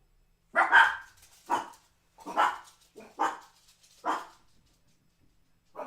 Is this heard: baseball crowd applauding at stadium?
no